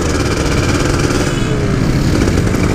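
Two-stroke Kawasaki Ninja motorcycle engine running close and loud, a continuous raspy buzzing drone with a steady throb and no voices over it.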